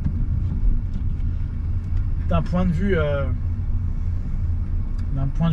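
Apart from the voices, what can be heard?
car engine running while driving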